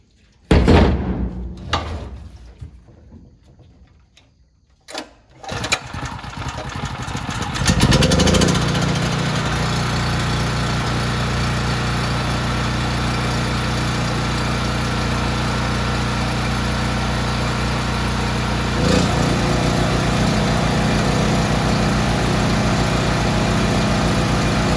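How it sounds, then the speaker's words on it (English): Generator starting on a farm, then running with a small air compressor pumping up a flat tire, a steady, loud mechanical drone after a few bumps and clunks, continuing without a break. "So we're gonna start up the generator, plug in the air compressor, and pump this up so we can get it out of here."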